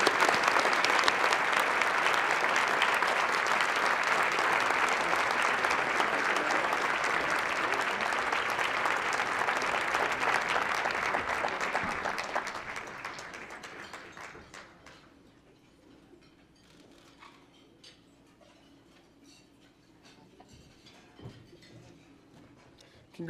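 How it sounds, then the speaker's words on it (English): Audience applause for Youth of the Year candidates at a 2018 Legacy of Hope special presentation, sustained loud clapping that fades out after about twelve seconds into a quiet room with scattered clinks and faint voices. "let's hear it for our Youth of the Year candidates"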